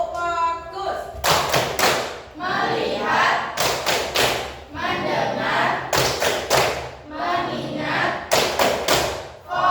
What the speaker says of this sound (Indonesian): Ibu akan bawakan tepuk fokus ya, Nak.